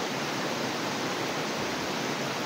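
A stream on Burias island rushes in a dense, constant broadband wash, close and loud, with no voices over the steady flow.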